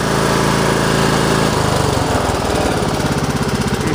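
A Toro Wheel Horse lawn and garden tractor engine runs loud and close with a steady buzzing drone, then shifts midway into a rougher, pulsing chug as the engine note changes.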